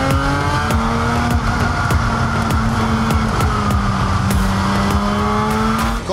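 A race car engine drones loudly and steadily at the 12 Hours of Spa-Francorchamps, its pitch rising and falling with shifts and gear changes, punctuated by sharp clicks and knocks.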